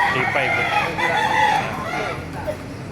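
A rooster crows up close while hens cluck and chatter around it at a chicken market in Baliuag, Bulacan, loud and lively.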